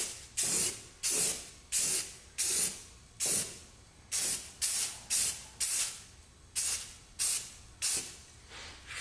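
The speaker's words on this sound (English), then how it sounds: "I'm only gonna spray this primer right over the body filler and bare metal and where I worked over." Spray can of primer being sprayed onto a car body over filler and bare metal, about fourteen short bursts of hissing in a steady rhythm, close and clear with no talking.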